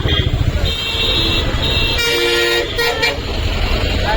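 Car horns toot repeatedly on a busy street near Pamban Bridge in Tamil Nadu, loud and close, with traffic noise and voices around them.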